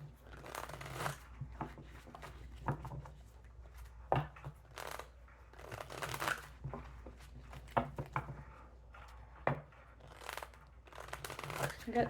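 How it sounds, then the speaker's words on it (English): Tarot cards are shuffled repeatedly in quick riffling bursts, crisp and close, with brief pauses between rounds. "I got two more shuffles."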